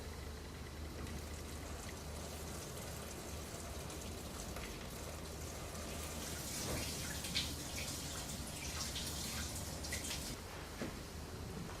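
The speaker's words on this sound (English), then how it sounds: "I'll be pouring the water in really slowly, which will help disperse the water" Water is poured slowly through a colander into a Fluval Edge aquarium, a soft, steady trickle and patter of drips that swells a little louder toward the end.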